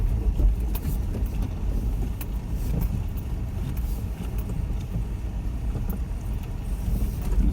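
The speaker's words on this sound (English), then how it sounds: "you can just listen to the tyres and watch the driving" A 4WD's tyres crunch slowly over rough, loose basalt rock on a steep descent of the Blue Rag Range Track. The close, continuous gravelly grinding and rumble mixes with a low engine drone, and nobody talks.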